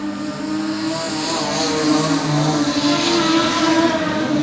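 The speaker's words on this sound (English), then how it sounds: "Vince Lindsay around the outside, bit of a touch Marini and Moody now as they go into turns 1 and 2" Production sedan race cars howl through turns one and two in a circuit race, a steady, loud engine drone with layered harmonics from several cars close together, holding a constant roar for the whole stretch with no voices over it.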